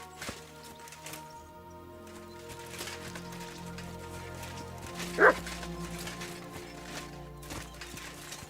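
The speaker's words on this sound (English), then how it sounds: "Barking." A single clear bark from a dog in the video game Kingdom Come Deliverance 2 rings out partway through, over quiet background game ambience with faint hoof-like clopping.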